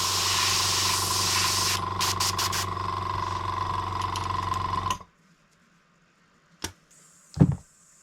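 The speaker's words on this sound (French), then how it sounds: "quand on va reculer, on aura le jet de peinture" An airbrush sprays paint, driven by a compressor, making a loud, continuous airy hiss over a pulsing motor hum that cuts off abruptly, leaving quiet with a couple of short clicks and bursts.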